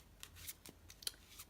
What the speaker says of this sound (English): all we are doing in this move is we are Hindu Shuffling as we normally would